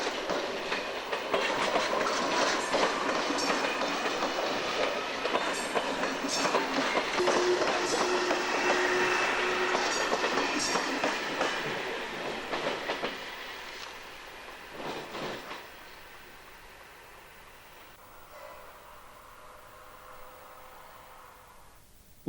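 Z2 passenger train units roll along rails toward maintenance tracks at Hendaye, loud rumbling with rhythmic clickety-clack and a brief high wheel squeal, then fading away into quieter distance.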